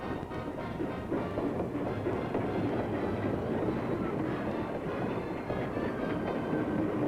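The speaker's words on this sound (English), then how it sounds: "the homeward bound special train chugs out of the station." A homeward-bound special train pulls out of the station with a steady rumbling roll and rhythmic clatter of wheels on rails, continuous and fairly close.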